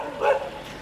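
A small dog gives a single short, close bark, brief and fairly loud, with nothing else around it.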